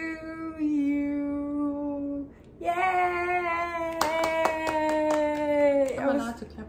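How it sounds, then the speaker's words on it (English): Quick, sharp hand claps at a home birthday celebration burst out in a short run near the end, layered over a sustained singing voice that carries on through and after them. "I'm allowed to clap for myself."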